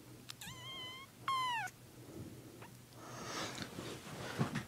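A cat meows twice in quick succession, close and clear, with rising then falling tones, followed by softer rustling and faint movement sounds.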